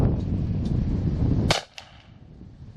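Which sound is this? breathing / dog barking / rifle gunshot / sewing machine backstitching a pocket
rifle gunshot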